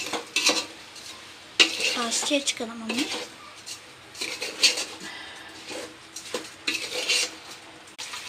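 A spoon stirs mushroom biryani rice with masala up from the bottom of a pot, giving repeated scraping and clinking strokes with a light sizzle underneath, while a person speaks over it.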